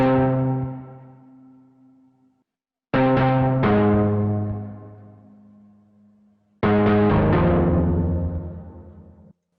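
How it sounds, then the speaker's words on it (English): Three dark, muffled guitar chords from an overdriven, low-pass filtered guitar sample ring out one after another, each decaying slowly with a warm, slightly distorted tone and gaps between them. "Another cool sound I have here is a guitar sample that I put into the sampler instrument"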